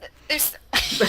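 One sharp sneeze bursts out close up, with a voice speaking briefly around it.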